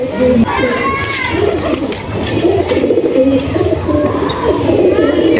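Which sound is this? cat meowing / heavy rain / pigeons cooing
pigeons cooing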